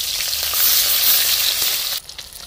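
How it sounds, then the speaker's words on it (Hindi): Grass carp pieces fry in hot oil in a village kitchen, a loud, dense, close sizzle that runs steadily and then drops away abruptly near the end. "चलिए तेल गर्म हो गया है, इसमें हम मछली फ्राई करते हैं।"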